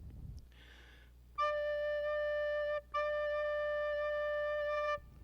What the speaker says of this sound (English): This is the D below the lowest line on treble clef